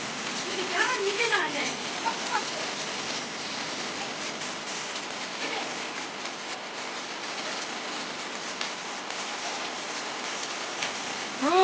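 Heavy rain falls steadily in a park where children play and people enjoy the downpour, a dense continuous hiss filling the scene, with voices occasionally heard over it.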